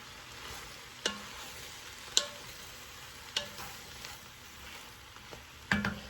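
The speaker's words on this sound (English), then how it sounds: "I have gone back in a couple of times and stirred it because I want to get the onions up from the bottom and mixed in with the cabbage as it cooks down a little bit" Cabbage and onions cooking down in a pan with bacon, under a low, quiet sizzle. Scattered sharp clicks and scrapes come from a utensil stirring the pan. No voices.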